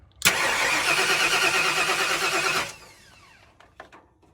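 A rebuilt car engine from a big-block Ford swap is cranked by the starter for about two and a half seconds, a loud, close, steady whirring churn. A few light clicks and clatters follow once it stops.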